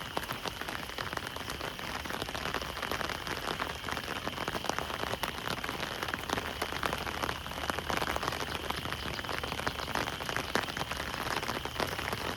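Steady rain falls continuously on a surface, a dense, even patter that holds the same level throughout with no voices.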